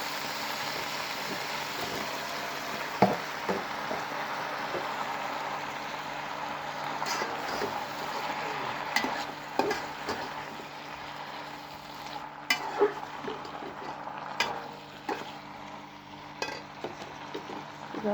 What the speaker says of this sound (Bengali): এই পুঁই শাকটা দিয়ে দিচ্ছি।